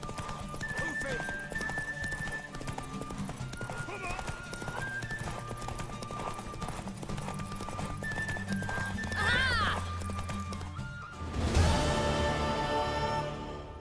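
A horse's hooves clip-clop steadily in The Witcher 3 video game, with a loud neigh near the end, under in-game character dialogue.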